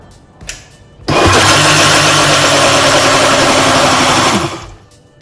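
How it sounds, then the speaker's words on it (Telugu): A mixer grinder blends yogurt with ash gourd, switching on with a loud, steady motor whine that runs for about three seconds before winding down. "సో పెరుగు వేసుకున్నాం కదా ఇప్పుడు మళ్ళీ ఫైన్గా గ్రైండ్ చేసేసుకుందాం"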